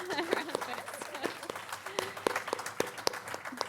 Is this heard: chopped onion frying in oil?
no